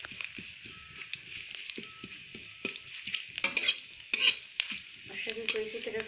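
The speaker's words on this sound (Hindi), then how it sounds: "फ्राई कर लेती हूँ थोड़े अच्छे से, ब्राउन होने तक मैं वेट कर लेती हूँ।" Ingredients for tomato chutney fry in a pan until browned, a soft steady sizzle under frequent scraping and stirring strokes of a spatula, close up and without talk.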